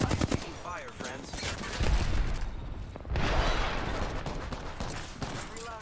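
Rapid gunfire in an Apex Legends ranked match, dense bursts of automatic shots with booming impacts, loud and continuous, with game voice lines mixed in.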